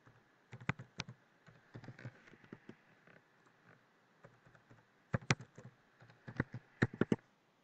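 Keys tapped on a computer keyboard while entering a password, in quick bursts separated by pauses, with a denser flurry near the end; close and fairly quiet, with no talking.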